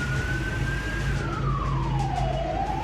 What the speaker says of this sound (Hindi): राष्ट्रपति भवन के बाहर सड़कों पर सायरन के साथ टैंक घूम रहे थे।